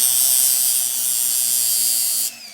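A small rotary sander grinds down a riveted-on gear on a VV 2-55 spring barrel, giving a steady, close, high-pitched whine that runs continuously and then drops off sharply near the end.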